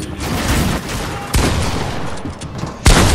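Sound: gunshots in a video game

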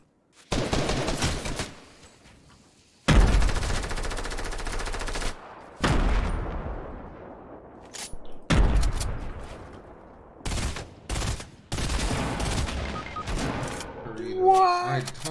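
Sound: gunfire in the video game Fortnite

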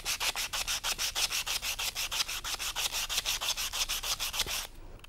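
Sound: sandpaper scraping a dull metal piece

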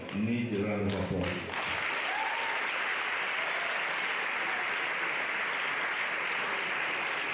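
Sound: audience applause for the Faculty of Agriculture

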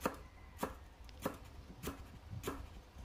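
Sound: chopping lemongrass with a knife

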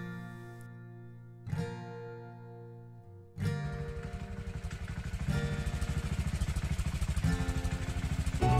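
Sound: motorcycles riding together on a mountain road

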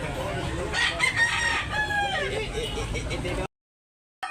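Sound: rooster crowing at a market

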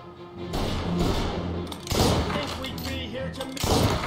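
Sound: bolt action rifle shots in video game Mafia Definitive Edition

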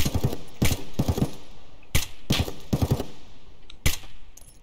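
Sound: gunfire in video game Escape From Tarkov

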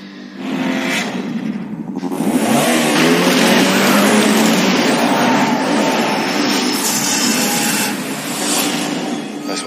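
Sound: car engine revving and driving off

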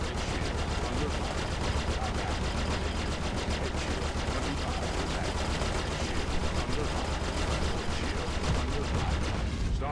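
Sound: ship weapons fire in Star Citizen video game

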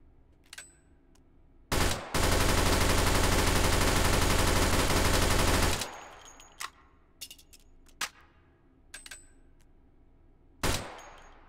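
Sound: unsuppressed gunfire in Hot Dogs, Horseshoes & Hand Grenades VR game

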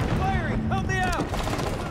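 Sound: gunfire in Halo 5 video game

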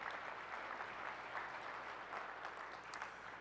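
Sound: audience applause at a keynote

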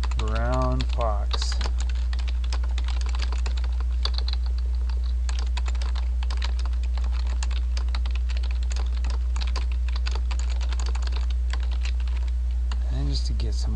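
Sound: typing text on a computer keyboard

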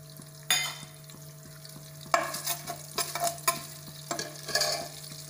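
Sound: cloves and cumin sizzling in a pressure cooker

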